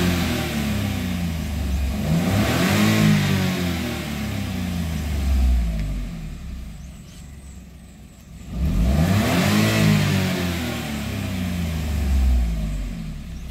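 A Toyota Wigo engine, checked for a returning check-engine light after a downstream bank 1 sensor 2 O2 sensor P0140 fault, is revved twice, each rise swelling close and loud and then falling back to idle.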